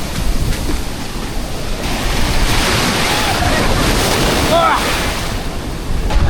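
Steady roar of ocean surf washing in at a beach in La Union, Philippines, loud and close, with wind buffeting the microphone throughout.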